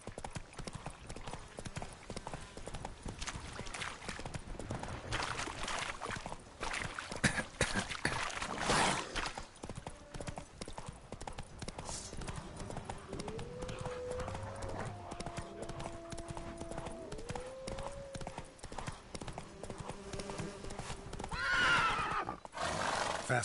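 Roach the horse gallops in The Witcher 3, a steady rapid clip-clop of hooves running throughout with a whinny near the end, over game music and ambient background.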